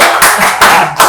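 An audience claps for the band in a brief, loud, close burst of handclaps that pulses in a few quick surges.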